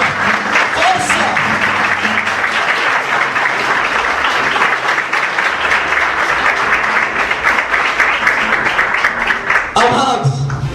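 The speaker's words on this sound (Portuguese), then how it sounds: "Dá uma salva de palmas para a palavra de Deus" A church congregation applauds in a sustained, dense wave of clapping that stays loud and even throughout, with a few voices mixed in near the end.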